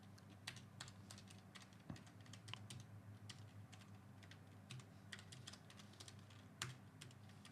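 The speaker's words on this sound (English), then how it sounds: "Look, I can type quickly." Quick, uneven keystrokes tapped on a computer keyboard with two pointer fingers, close and fairly soft, in short bursts with small pauses, no voices.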